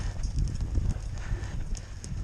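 Horses move around a round pen, their hooves thudding on soft ground in an uneven, close rhythm with a low rumble of movement.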